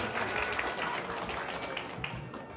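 Applause from a community gathering as a guest is invited onto the stage at an association launch in Riyadh, a soft, even spread of clapping that carries through the whole moment.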